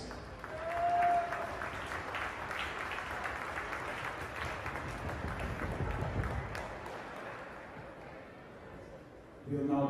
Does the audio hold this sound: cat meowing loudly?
no